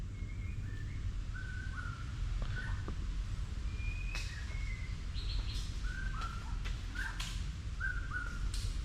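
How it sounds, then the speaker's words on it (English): Birds call and chirp in scattered, repeated whistled notes, some near and some farther off, over a steady low outdoor hum in a quiet, empty spot on Pulau Ubin island, Singapore. No voices are heard. "so I can just hear the bird sound"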